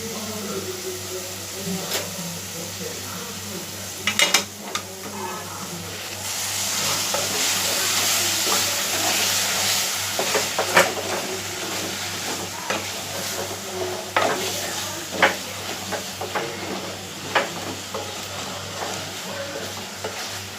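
Banana stem pieces stir-frying in a pan, a steady close sizzle with intermittent scraping and stirring knocks of the spoon, continuing for about twenty seconds with a little faint talk.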